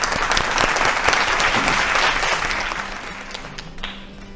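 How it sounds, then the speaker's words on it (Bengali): A studio audience applauds on a family game show, dense clapping that stays strong for a few seconds and then tapers off. "জুড়ে হাততালি।"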